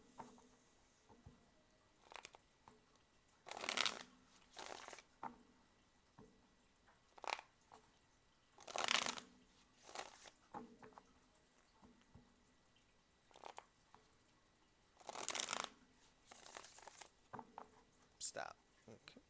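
Tarot cards shuffled by hand in a quiet room: three loud bursts of riffling stand out against softer, scattered rustles and card taps, with no other sounds around them.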